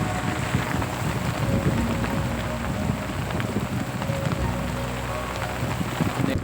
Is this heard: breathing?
no